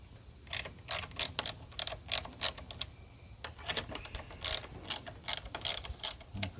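A ratchet wrench loosens half-inch tachometer bolts on a Harley-Davidson Road King police bike, clicking in quick, uneven bursts of sharp ratcheting strokes, close and clear with brief pauses between runs.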